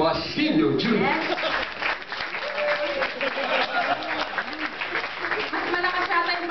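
Audience applause at a JCI Marikina induction ceremony greeting JCI Senator Louie Basilio Jr., a dense, sustained wash of clapping filling the room with scattered voices and chuckles mixed in.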